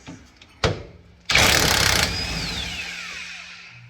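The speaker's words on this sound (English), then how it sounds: "use that drill bit and just cut a little access out of all 3 of these spots" A drill bit cuts small access holes during a lift spacer install on a Mercedes W163 strut, with a sharp knock, then a loud close burst of grinding that settles into a fading whine with a falling pitch.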